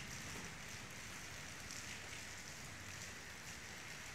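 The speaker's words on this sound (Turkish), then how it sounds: "eski takvimlerine göre son Nisan yağmuru. Gece yağıyor." Spring rain falls at night in Istanbul, a faint, steady hiss of drops on surfaces that runs evenly throughout with no voices.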